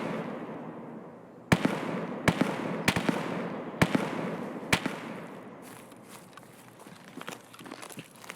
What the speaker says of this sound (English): Probably the sniper scab shooting.